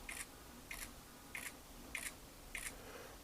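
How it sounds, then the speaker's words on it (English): A ZTE Axon 7 smartphone camera shutter clicks five times in quick, evenly spaced succession, each a short, crisp, close sound over quiet outdoor ambience. "I want to show you how quick the shutter speed is."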